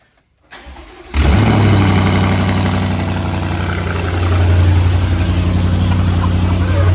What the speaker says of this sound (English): Start the damn car.